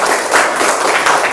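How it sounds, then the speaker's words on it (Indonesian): A classroom of schoolchildren applauds together, a dense, loud burst of clapping that fills the short moment without pause. "Ya, tepuk tangan nak."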